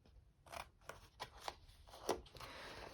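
Scissors snipping card for a chocolate slider gift box, a series of about seven short, crisp cuts in an uneven rhythm, close and quiet, with no talking.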